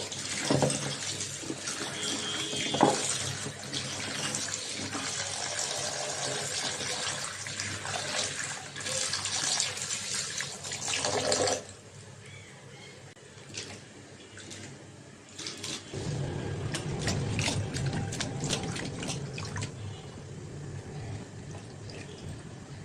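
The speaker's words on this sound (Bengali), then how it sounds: "আমি এখন তরকারিগুলো ধুয়ে নেব মূলা আজকে মূলা রান্না করা হবে" Radish and other vegetables rinsed under a running kitchen tap: a steady rush of water for about eleven seconds, then a quieter stretch, then a lower, fuller pour of water near the end.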